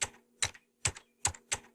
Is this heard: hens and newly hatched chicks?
no